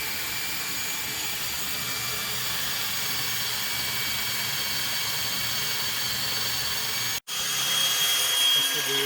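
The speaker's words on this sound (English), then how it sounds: "And we got all the holes drilled." A power drill boring holes into the back of a live-edge walnut fireplace mantel whines steadily and loudly, cuts out briefly, then resumes close by with no voices.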